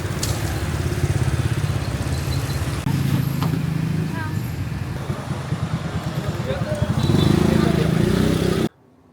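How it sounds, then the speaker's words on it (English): Motorbike traffic outside a hotel in Vietnam, a continuous rumble of passing engines that swells louder near the end, with someone talking over it before the sound cuts off abruptly. "I know you can probably hear the bikes"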